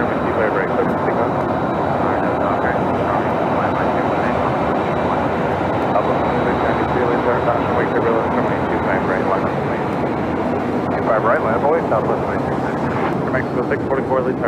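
A Philippine airliner rolls onto runway 25 right and takes off, its jet engines giving a steady, loud, broad roar that holds throughout, with a voice talking over it.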